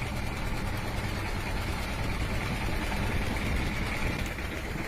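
A fishing trawler's engine drones steadily on the Padma river during hilsa fishing, a constant loud low rumble with no breaks.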